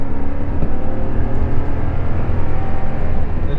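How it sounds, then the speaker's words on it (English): A Toyota Tundra pickup's V8 engine revs with a steady, loud, low rumble that holds at an even level throughout, with no talking over it. "And it gives you a nice V8 sound."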